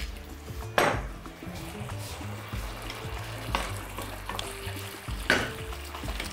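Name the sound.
pouring semi-sweet red wine into the pot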